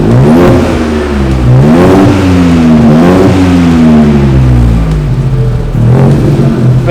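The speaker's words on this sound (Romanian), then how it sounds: "Pentru un motor de 1 litru, noi chiar am rămas șocați de cât de bine se aude." A small 1-litre Ford EcoBoost car engine revs loudly up and down several times nearby, the pitch rising and falling with each push of the throttle.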